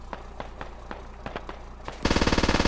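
Gunfire in the SquadOps video game: scattered single shots crack at irregular intervals, then a rapid, loud automatic burst takes over for the last second.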